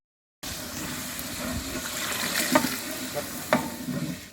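Tomatoes being stirred in a sizzling pot after a moment of silence, with a constant frying hiss and a couple of sharp spoon clinks.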